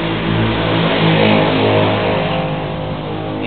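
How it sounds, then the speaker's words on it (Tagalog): Steady highway traffic close to a home, cars rolling past in a continuous engine drone with slight rises and falls, moderately loud, with no voices over it. "Ingay dito sa amin. Malapit kasi kami sa highway."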